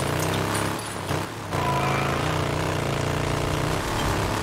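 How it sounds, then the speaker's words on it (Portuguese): A motorcycle engine in the video game Days Gone drones steadily and loudly throughout, a dense continuous rumble with a brief dip in the middle, no talking over it. "O motor não deu um boost ainda, mas pelo menos a moto tá com uma tração."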